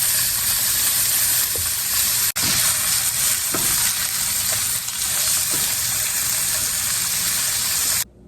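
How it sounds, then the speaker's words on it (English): Steak sizzles and fries with onions in a hot skillet, a steady loud crackling hiss with occasional stirring clicks and scrapes throughout, no voices. "I'm going to add in the steak. And we're just gonna cook this thoroughly until it's cooked through."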